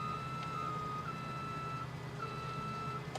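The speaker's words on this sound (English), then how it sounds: "It had like a double backup beeper" A vehicle's reversing alarm in Farming Simulator 17 gives a double backup beep: two long, steady electronic tones repeating over a constant engine drone.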